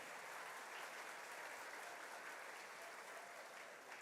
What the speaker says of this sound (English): So a big round of applause for our choir directors that are doing a great job.